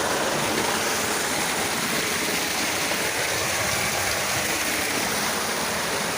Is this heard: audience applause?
no